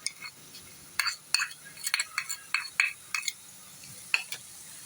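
A spoon stirs ginger garlic paste into golden fried onions in a pan, making a run of sharp scraping clinks at an irregular rhythm over a faint sizzle, close and fairly quiet.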